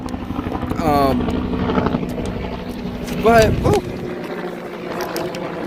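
A continuous low rotor drone hums under nearby voices, with a steady mechanical chop persisting in the background throughout.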